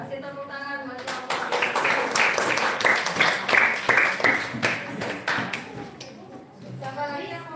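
Students in a classroom clap for a classmate after a presentation, a burst of applause lasting several seconds that swells and fades, with voices in the room before and after.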